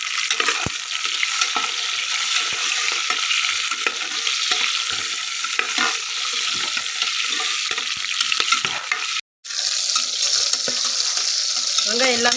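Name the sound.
sautéing shallots in pan until browned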